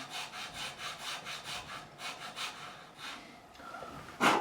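Steady back-and-forth strokes of a file work a nut slot on an Epiphone Les Paul guitar, a rhythmic rasping about three per second, close and moderately quiet, ending with a sharp scrape.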